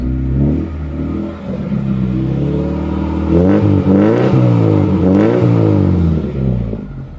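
A 1987 Toyota Corolla SE Saloon with a carbureted engine revs hard in repeated rising and falling surges, loud and close, with no talking.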